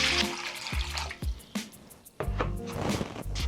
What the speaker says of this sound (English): So first I'm gonna add some water to the bowl.